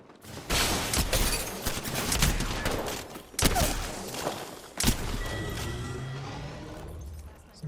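A Peacekeeper shotgun fires in Apex Legends close-quarters combat. Loud, sharp blasts come in quick succession, each followed by mechanical pump clacks, alongside chaotic impact and hit sounds.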